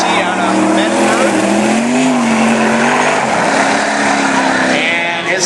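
A race car with a Hurricane chassis runs a qualifying lap on a track, its engine a loud, continuous close drone with a slowly shifting pitch, nearly filling the short stretch; a voice may sit faintly under the roar.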